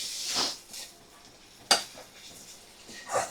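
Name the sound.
chicken pieces being stirred with spices in a pan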